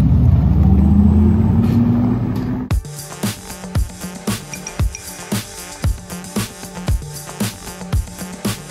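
An Audi e-tron GT electric car starts off and drives away: after a low rumble, a regular series of sharp synthetic pulses with a sustained tonal hum follows, close and fairly loud, with no talking.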